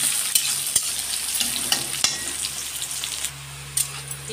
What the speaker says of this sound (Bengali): এবার পেঁয়াজ পকাই নেব পেঁয়াজটাকে ভালো ভাবে ফ্রাই করে নেব তাকে লাল ভাবে